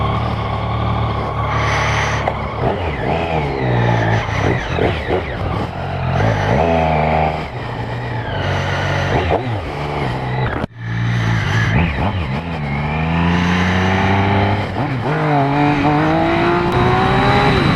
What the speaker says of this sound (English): Just doing a little exhaust test for this new Arrow system.